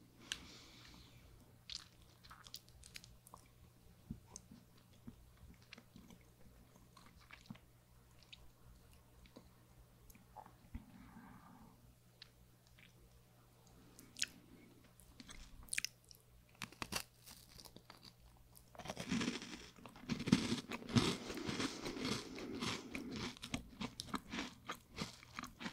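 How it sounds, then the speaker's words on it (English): Crunchy Dutch egg cookie with a milk chocolate base and a cinnamon brown sugar sprinkle being eaten close to the mic, giving scattered quiet crunches and chewing that swell into louder, denser crunching near the end, with no talking. "So this is the egg cookie. It's crunchy."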